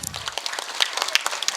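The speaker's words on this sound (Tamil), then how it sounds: "இந்த நீதிபதிக்கு நீங்கள் எல்லாரும் ஒரு அருமையான ஒரு கைத்தட்டல் கொடுங்க" Audience at a school annual day debate program claps for the judge, a dense, steady patter of many hands that fills the short stretch without pause.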